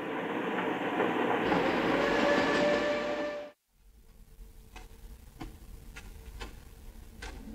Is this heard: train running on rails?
yes